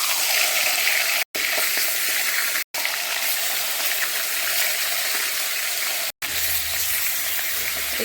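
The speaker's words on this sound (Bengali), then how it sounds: "তেল গরম হয়ে গেছে, এখন মাছগুলো দিয়ে দেবো।" Pangas fish frying in hot oil, a loud steady sizzle and crackle filling the whole stretch with a few brief dropouts, no voices.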